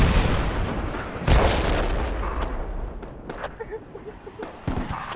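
Rifle fire and heavy booms crack in the military shooter game Project Reality, loud at first and then more scattered, with voices talking over the battle.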